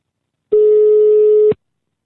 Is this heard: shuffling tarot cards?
no